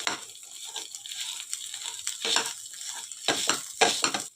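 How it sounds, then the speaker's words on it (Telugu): Boiled potatoes being mashed with a wooden masher in a pot for samosa filling, a series of soft, irregular squelching thuds and scrapes at close range with no voices. "ఇలా పప్పు గుత్తి తీసుకొని చక్కగా ఇలా స్మాష్ చేసేయండి"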